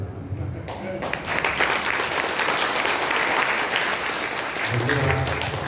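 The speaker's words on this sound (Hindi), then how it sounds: "इतनी बढ़िया ताली बजनी चाहिए कि गायक में भी जोश आ जाए।" Audience applause at an Arya Samaj gathering after a Vedic bhajan, a sustained dense round of clapping from a crowd that swells after a brief start and carries on steadily throughout.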